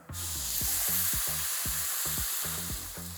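Steady loud sizzling of rice in a hot pan as broth is ladled in for chorizo risotto, with a bubbling hiss throughout and rhythmic low scraping or stirring pulses.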